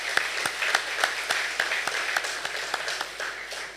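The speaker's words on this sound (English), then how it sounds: "join me in giving a lusty round of applause to Sister Margaret" A graduation ceremony audience gives a round of applause for Sister Margaret, the board and staff: steady, dense clapping from many hands, close and continuous, with no talking.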